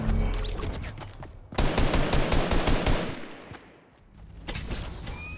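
Rapid bursts of automatic gunfire in the video game Fortnite, with loud rattling volleys starting about a third of the way in, a brief lull, then another burst near the end; no talking.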